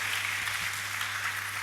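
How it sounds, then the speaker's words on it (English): An audience at a student union inauguration ceremony claps for the newly elected incoming council members, a steady wash of applause throughout, fairly distant and even, with no voices over it. "They are clapping for you."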